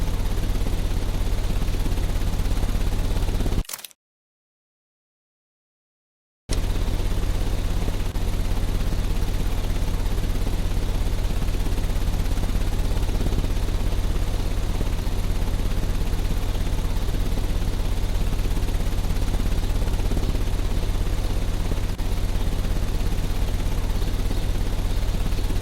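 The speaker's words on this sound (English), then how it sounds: "The engine has started." Engine running in the video game Sherlock Holmes: Crimes and Punishments, a steady low droning hum with a constant mechanical rumble that carries on throughout, broken only by a brief gap of silence near the start.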